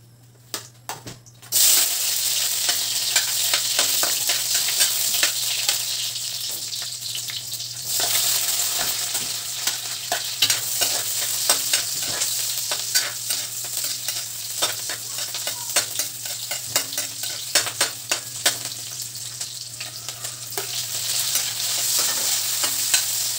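Kiyampaw being cooked in a pan, with steady loud sizzling and a dense run of clattering stirring scrapes throughout, close and continuous, no talking.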